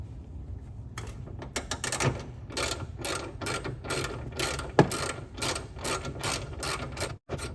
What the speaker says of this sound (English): we're going to remove the lower bolt on the hood